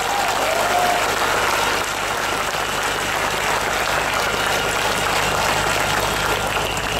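Dense, sustained applause from an audience at a political talk in a coffee shop, loud and continuous from start to finish, with no voices standing out above it.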